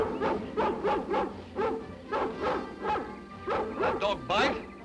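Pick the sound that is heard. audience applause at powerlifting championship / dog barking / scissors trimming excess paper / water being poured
dog barking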